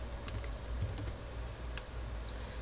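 Keystrokes on a computer keyboard while a git command is typed, a few faint scattered clicks over a steady low hum, quiet and close with no talking.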